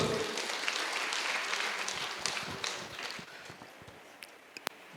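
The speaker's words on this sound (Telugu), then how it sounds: "ఆయన ఒకసారి గట్టి క్లాప్స్ కొడదు." Clapping from an audience at a meditation gathering, loud at first and then fading to a few scattered claps, with some voices over it.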